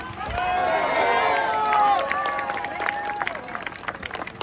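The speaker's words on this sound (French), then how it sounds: "un tonnerre d'applaudissements" A crowd in Geneva applauds after a speech at a public gathering, steady clapping and cheering voices mixed with crowd noise, moderately distant and continuous.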